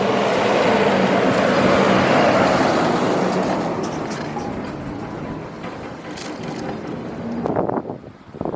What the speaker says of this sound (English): There's one of the Bear Transit buses.